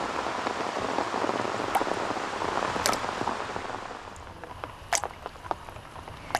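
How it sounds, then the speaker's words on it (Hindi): Steady rain falls as a dense hiss of drops on surfaces, with scattered louder individual drips and splats standing out, especially toward the end as the wash eases slightly. "बरसात अपने साथ लाती है नमी, पानी"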